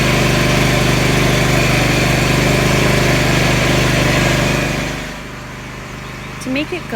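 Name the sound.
Troy-Bilt Pony riding lawn mower engine started and running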